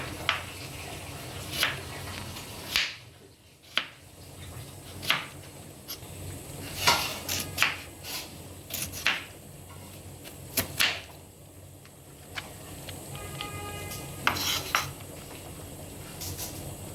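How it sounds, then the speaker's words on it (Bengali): Potatoes being peeled and cut with a knife in a home kitchen, heard as a series of sharp, separate knocks and clicks at an irregular pace, fairly close and moderately quiet, with a faint background hiss. "আর আলু ছিলে এভাবে কেটে নিচ্ছি।"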